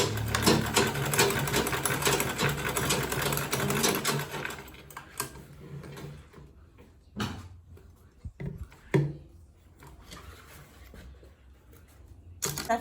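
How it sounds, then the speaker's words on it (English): Sewing machine stitching a quilted tote bag, running in a dense continuous burst for about five seconds, then stopping and starting in a few short bursts with quiet gaps between. "So I'm going to sew on this. I'm going to back stitch first."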